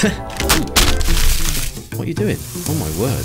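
Hot oil sizzles and crackles around Cheeto-coated food being deep fried, the bubbling heard under excited voices talking close by.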